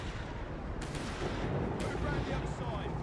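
Artillery fire in Company of Heroes 3 booms and thuds under a dense wash of battle noise, with a couple of sharp impacts standing out, while a commentator talks over it.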